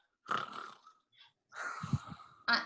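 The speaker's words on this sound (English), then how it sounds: "She's snoring like a buzzsaw." A woman snores in her sleep in a few ragged, rasping breaths with a throaty rattle and a gap between them, loud and close like a buzzsaw, with no talking.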